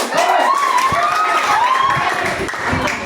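A classroom breaks into applause, with a dense patter of clapping mixed with children's shouting and cheering voices.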